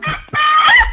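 A rooster crows loudly and close by in one short, harsh, strained call with a brief break near the start.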